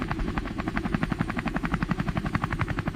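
An animated cartoon helicopter flies with a steady, rapid rotor chop: evenly spaced thumping beats over a low engine drone, loud and close throughout.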